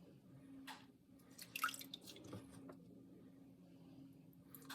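Water drips from a sponge as it is squeezed out of a clay pot on a pottery wheel. A few light, scattered drips fall close and quiet over a soft background hum.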